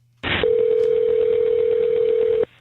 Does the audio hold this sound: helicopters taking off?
no